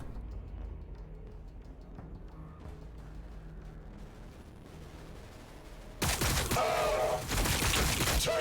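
In the Warhammer 40k Battlesector strategy game, a low rumbling battlefield ambience suddenly erupts into a loud, sustained volley of gunfire lasting a couple of seconds.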